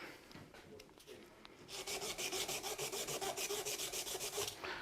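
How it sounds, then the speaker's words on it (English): Sandpaper rubbed back and forth by hand along the tip of a .370 graphite golf shaft, a close, steady rhythmic rasping that turns louder and more regular halfway through, with no talking. "we just use the sandpaper, go back and forth, and then turn it as we go"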